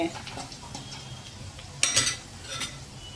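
Spices sauté in a pan for a cashew and garlic curry while a spoon stirs them, a faint sizzle under occasional scraping, with a sharp clatter of utensil on pan near the middle; a voice murmurs faintly.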